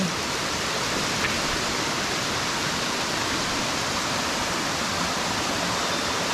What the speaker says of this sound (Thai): คือน้ำตกที่นี่มันมีหลายชั้น